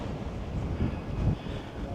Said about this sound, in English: My goodness, it's windy.